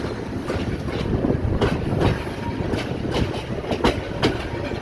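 Jayantika Express on the Dhaka-Sylhet line rumbles steadily from on board, with continuous rail noise and repeated clickety-clack wheel beats at irregular intervals throughout.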